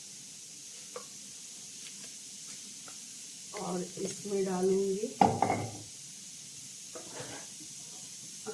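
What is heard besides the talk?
bay leaf added to hot mustard oil, sizzling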